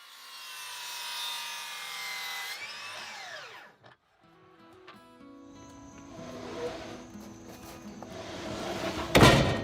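A saw cuts through wooden 4x4 posts with a rasping, scraping stroke, followed by knocks and handling noises. Another loud cutting burst comes near the end, heard up close.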